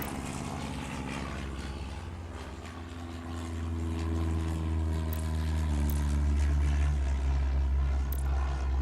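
A propeller airliner taking off in the Airport Madness game, set in the 1925-1928 era, its steady low engine drone rising in loudness through the second half and running on alone without talk.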